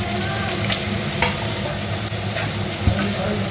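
Onions frying in a pan, a loud, dense, continuous sizzle up close with a couple of faint stirring knocks and no talk.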